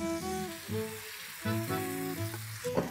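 Chicken pieces fry in melted butter and oil, a quiet steady sizzle with intermittent tonal ringing and clatter as they are stirred in the pan.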